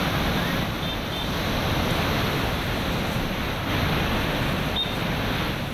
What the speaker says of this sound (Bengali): সেই জল দেখতে পাচ্ছেন কিভাবে হুহু করে জল যাচ্ছে